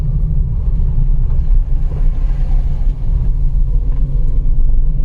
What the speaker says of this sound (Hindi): इस गाड़ी को साइड दे दूं, बहुत डिपर मार रही है।